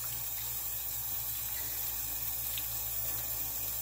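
Tap water running steadily over fern leaves being rinsed in a sink, a continuous even splashing hiss with a low hum beneath and no talking.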